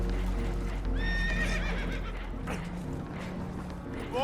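Frightened horses whinny and neigh aboard a boat taking on water in Red Dead Redemption 2, loud rising-and-falling cries close by with clattering hooves and rumbling ambience beneath.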